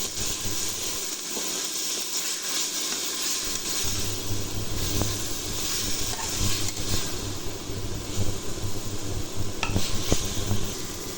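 A spice paste with cumin powder sizzles steadily in a hot pan as it is sautéed for a fish curry with kohlrabi and potato, a loud continuous frying hiss with occasional stirring scrapes.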